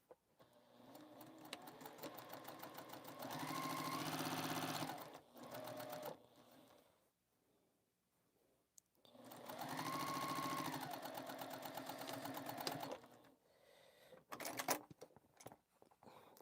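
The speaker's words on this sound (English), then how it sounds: "let's sew 1/4 inch seam on this." Domestic sewing machine stitching a quarter-inch seam on the bottom of a fabric bag for a sewing caddy, running in two sustained motor bursts of several seconds each with short pauses and light handling noise between.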